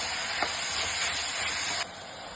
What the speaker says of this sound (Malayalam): ഉപ്പും കൂടെ ചേർത്ത് ഇഞ്ചി ചിക്കൻ നന്നായിട്ടൊരു അഞ്ച് മിനിറ്റോളം വഴറ്റി എടുക്കാം